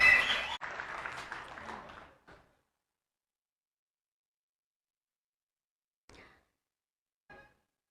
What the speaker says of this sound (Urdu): زوردار تالیوں سے استقبال کیا جائے